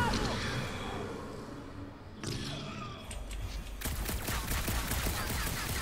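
Rapid bursts of Guardians of the Galaxy video game gunfire crackle and pop over a dense, noisy background, growing busier toward the end.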